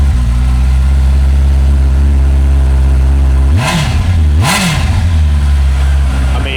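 A loud Honda CBR650R motorcycle with stock exhaust idles with a low rumble, then revs sharply twice in quick succession before settling back to idle.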